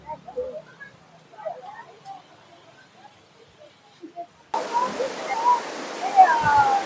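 Elephant Falls waterfall in Shillong, Meghalaya, a steady broadband rush of falling water that cuts in partway through after quieter ambience, with a voice talking over it.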